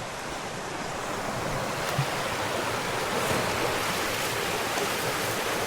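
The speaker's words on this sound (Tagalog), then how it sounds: "Hoy, ilog. Last na water source." Steady broadband rush of a river flowing at the last water source on a Mt. Negron hiking trail, continuous and fairly loud throughout with no voices, like surf or wind.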